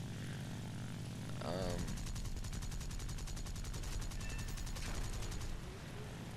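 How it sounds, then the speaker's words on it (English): Rapid machine-gun fire from a B-17 bomber's front turret in War Thunder, a fast steady rattle lasting several seconds over droning propeller engine noise, fairly quiet overall. "With his front turret, he was able to shoot me down like that"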